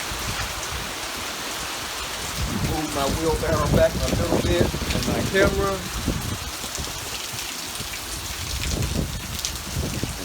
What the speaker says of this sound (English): that rain is pouring down out there